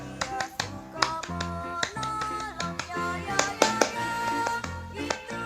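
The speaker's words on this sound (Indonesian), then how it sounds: "2 kali tepuk pramuka" A Scout group claps the scout rhythmic clap twice in a quick, patterned rhythm, sharp crisp hits in sequence over some sustained tonal sound.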